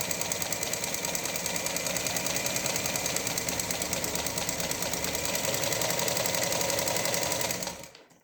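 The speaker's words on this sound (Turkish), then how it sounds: "zikzak dikiyor. Bu da makinenin zikzağı." Singer 224 sewing machine stitching a zigzag, its needle chattering in a fast, steady, loud mechanical rhythm for several seconds before stopping abruptly at the end, with no voices.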